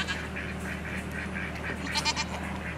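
Goats bleat on a working farm where pygmy goats and young kids are kept, several calls overlapping at moderate distance over a steady low hum, with a louder cry near the end.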